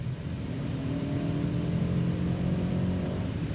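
A 2025 Toyota Camry hybrid in sport mode accelerating at full throttle, its engine drone steady and fairly loud for several seconds with no one talking.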